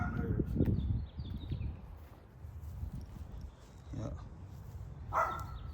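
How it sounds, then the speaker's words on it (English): A dog barks nearby in a few sharp, spaced bursts over a steady outdoor background rumble, with a louder bark near the start and quieter ones later. "This dog getting on my nerves."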